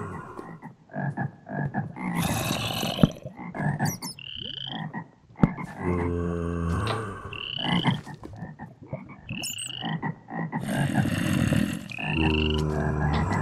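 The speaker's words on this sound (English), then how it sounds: "There's a lot of frogs out here." Frogs croak loudly and repeatedly in a cave in modded Minecraft, with overlapping calls close by and sharp chirping game sound effects scattered between them.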